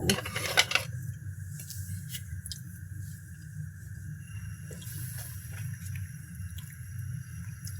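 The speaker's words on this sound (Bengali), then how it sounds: "এখন আমি এটা নেড়ে নেব" Rice-flour cheba pitha mixture being stirred in a pot on the stove: a few clinking spoon scrapes at first, then soft, steady stirring over a low burner hum.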